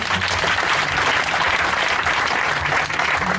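A church congregation applauds in praise, a dense, steady wash of clapping filling the room at full volume without break, with no voices standing out over it.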